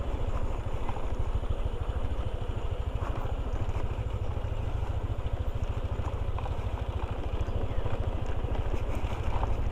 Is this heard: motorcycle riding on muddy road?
yes